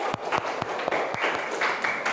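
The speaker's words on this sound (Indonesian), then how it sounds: "beri tepuk tangan untuk teman-temannya" Classroom students clapping for their classmates, a short burst of quick, uneven handclaps close by, with no talking.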